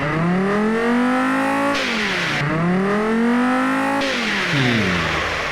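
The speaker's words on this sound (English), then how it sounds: "What does our engine sound like?" A Volvo car engine with a performance manifold and restrictive exhaust, in the Automation and BeamNG driving games, revs up through rising gears in two loud, sweeping climbs, dropping in pitch between them, with no voices.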